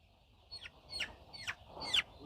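A chicken being weighed on a farm lets out three or four sharp, squawking clucks about half a second apart, close and fairly loud over a quiet background.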